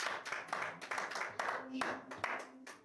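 A church congregation claps in rhythmic bursts during a French-language service, a quick patter of hands repeating several times under a speaking voice.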